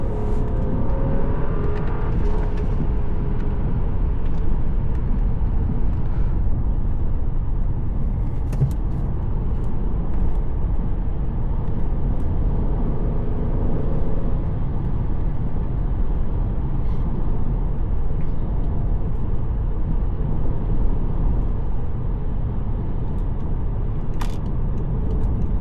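Cabin engine sound from inside a 2014 BMW 535i on a handling drive, a continuous low drone and road rumble that holds steady for the whole stretch, with a couple of faint clicks and no voices.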